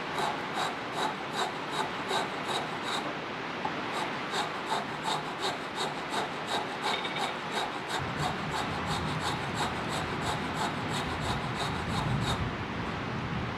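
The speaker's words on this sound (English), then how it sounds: "I'm using the larger square cutter to angle this a bit down from that bandsaw cut line." Large square cutter working wood on a lathe, shaping a square-topped hollow form below a bandsaw cut line; a continuous close scraping hiss pulses with regular rhythmic ticks from the spinning piece, steady and fairly loud throughout.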